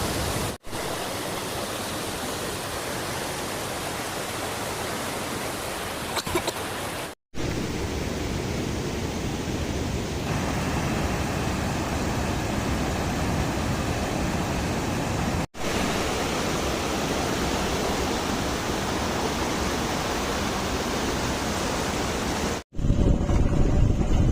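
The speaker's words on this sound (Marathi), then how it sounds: "आमचा हा सोमनाथचा धबधबा निवांत वाहत आहे" The Somnath waterfall in Chandrapur district, swollen by the first monsoon rains, roars as a loud, dense, unbroken rush of falling water, constant from start to end apart from brief cuts.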